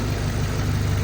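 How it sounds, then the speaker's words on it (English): An old Jeep engine, its ticking noise cured with an engine restorer, idles steadily and quietly in the background, a smooth, even low hum with no knocking. "There it is running in the background. Super quiet. Sounds like a normal Jeep now."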